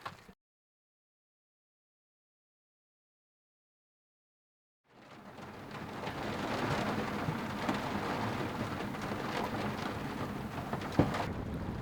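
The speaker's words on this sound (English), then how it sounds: "it's starting to get windy" After several seconds of silence, a steady roar of storm noise rises and holds on a docked sailboat in winter Alaska, dense rain and gusting wind, loud and close with occasional sharp knocks.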